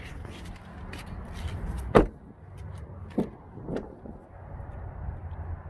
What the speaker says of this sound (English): Opening up the car, on the driver's side